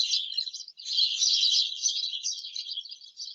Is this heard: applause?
no